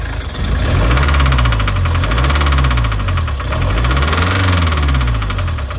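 A VW Vanagon Doka van engine idles loudly and close by with a steady rumble, a rhythmic knocking and a slowly wavering pitch running throughout.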